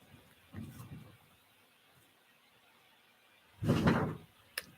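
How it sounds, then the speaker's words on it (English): Doors slam inside a house, one muffled thud early on and a louder, fuller bang later, heard from a distance with no talking over them. "they're slamming the doors at my house"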